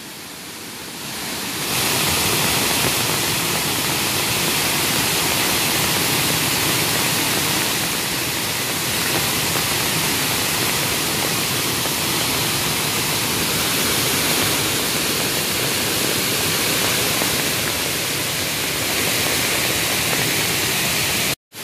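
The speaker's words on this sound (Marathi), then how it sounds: "म्हणजे ह्या धबधब्यात किती पाणी येतं आता" A Konkan waterfall swollen after heavy rain, a loud, steady roar of rushing, crashing water that fills the whole scene continuously and unchanging, heard close with no voices.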